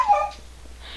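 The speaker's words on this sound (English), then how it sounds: "my dog's sad about me getting shot. Just looking at it and screaming." A dog whimpering in a Counter-Strike: Global Offensive game, one short high whine that falls away within a second, fairly loud and alone.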